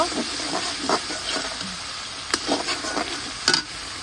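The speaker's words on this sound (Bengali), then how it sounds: "তেলের সাথে পেঁয়াজ বাটা টামাল কিছুক্ষণ ভেজে নেওয়ার পরে এখন আমি দিয়ে দিব সব ধরনের মশলা" Onion paste and ground spices (turmeric, cumin, chilli powder) fry in oil with a continuous hiss, cut by repeated sharp scraping stirs of a spoon in the pan.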